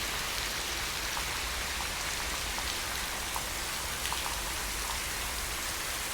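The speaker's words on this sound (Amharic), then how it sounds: "እኔ አሁን ያለሁት ዝናብ ውስጥ ነው" Artificial rain pours steadily inside the Dubai Rain Room, a dense, even hiss of water striking the floor with faint scattered drip patters and no talking.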